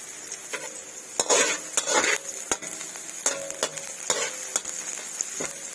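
Garlic sautés in a pan for arroz valenciana, a close, steady sizzle with repeated metallic scrapes and taps from a spatula stirring it, and no talking.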